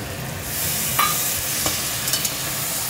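Ground spice paste sizzling steadily in a hot pan for a jackfruit and prawn curry, a continuous close hiss with a few faint scrapes and clicks of stirring.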